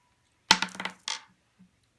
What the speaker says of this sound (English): I'm going to go ahead and roll the die as well.